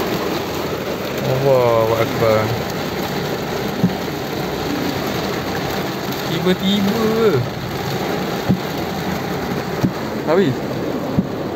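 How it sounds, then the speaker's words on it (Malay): Heavy rain pours down outdoors in Bandar Permaisuri, Cheras, a dense continuous hiss filling the background while people talk and exclaim over it. "Oi, hujan lebat weh."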